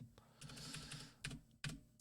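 Keys clatter on a computer keyboard in a quick, uneven burst of soft clicks, then a few separate taps after short pauses, close and fairly quiet.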